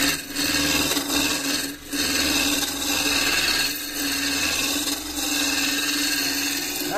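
A woodturning gouge cuts spinning wood on a lathe, giving a steady, loud scraping hiss with a motor hum beneath, broken by brief dips as the tool moves back and forth.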